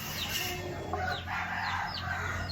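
A Henny chicken with grey plumage clucks and calls repeatedly against a steady low background hum, fairly close, with a few sharp rising notes.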